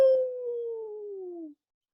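A single human voice imitates a wolf howl, one long sustained tone sliding slowly downward for about a second and a half before stopping.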